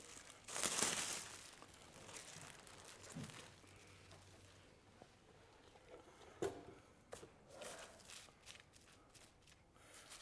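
Plastic foil crinkling and rustling as it is handled during pastry making with flour and butter dough, close and soft, in irregular bursts with one louder crumple near the start and scattered quieter handling after.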